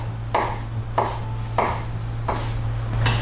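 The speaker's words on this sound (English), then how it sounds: "Let's cut mitsuba." A knife chops mitsuba on a cutting board, five distinct evenly spaced cuts landing about every half second over a steady low hum.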